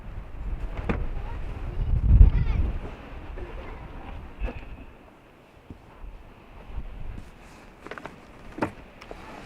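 Strong wind gusting across a desert campsite in the San Rafael Swell, buffeting the microphone in uneven rumbling surges that swell loudest early and flare again near the end, with faint talk underneath.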